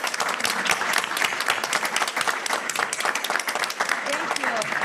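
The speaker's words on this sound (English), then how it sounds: "please join me in a final round of applause for these incredible faculty members" A room of attendees at a university Board of Trustees meeting gives a final round of applause for faculty members honored with promotions and tenure, steady dense clapping that continues throughout at moderate volume.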